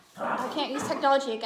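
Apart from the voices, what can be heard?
dogs barking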